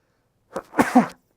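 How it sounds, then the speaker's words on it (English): A single person sneezes close by, a short sharp burst with a quick inhale before it, alone in an otherwise quiet room. "it's my sneeze"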